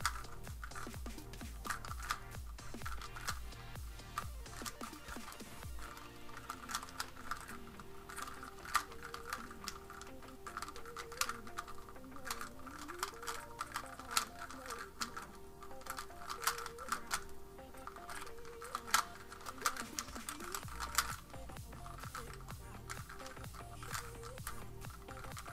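A Square-1 puzzle cube being turned gives a steady stream of rapid, light plastic clicks and clacks close by, with soft sustained tones underneath.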